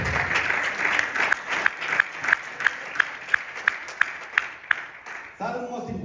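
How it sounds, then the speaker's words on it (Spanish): A church congregation claps in rhythm, sharp evenly spaced claps standing out over a background of voices, then a voice takes over near the end. "Denle ese aplauso al Señor."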